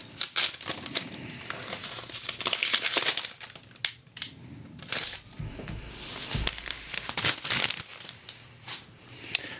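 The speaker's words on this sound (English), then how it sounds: "let's take the protective paper off." Protective paper peeled off a new Apple Magic Trackpad 2, giving close, quiet crinkling and tearing rustles in irregular bursts with brief pauses.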